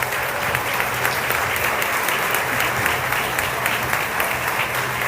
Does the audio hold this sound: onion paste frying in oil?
no